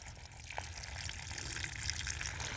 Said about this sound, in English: show you the water running out of it